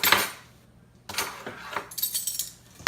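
A metal spoon measures kosher salt into a bowl of flour, giving a few sharp clinks against the bowl with quiet gaps in between, close and light.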